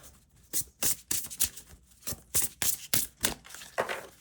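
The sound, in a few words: shuffling a tarot card deck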